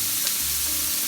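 Leeks frying in a pan for chicken pasta give a steady, close sizzle with a faint stir near the start, heard alone without talk.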